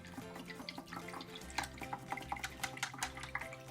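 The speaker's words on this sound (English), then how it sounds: "I'm gonna rinse the white out of this brush" A paintbrush loaded with white acrylic is swished and tapped in a water cup, giving soft, rapid splashes and drips in an irregular rhythm, quiet and close.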